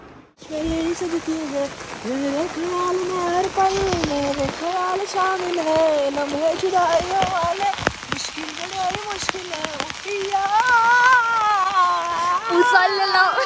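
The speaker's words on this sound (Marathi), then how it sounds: "आता आपण महालक्ष्मीच्या मंदिरात चाललोय एवढ्या पावसात" Heavy monsoon rain in the Konkan region pours steadily on the way to a Mahalakshmi temple, a dense continuous hiss that runs the whole time under several people talking.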